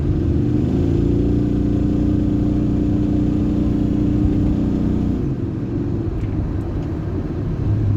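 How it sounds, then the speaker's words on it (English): A steady, fairly loud engine drone from the range-extender engine of a Nissan e-NV200 electric van runs evenly on the road, then its pitch drops and it settles into a lower rumble near the end. "as you can hear, it's not ridiculously loud"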